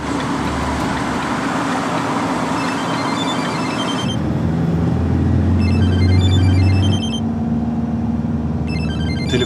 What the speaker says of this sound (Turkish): Telefonum çalıyor yine.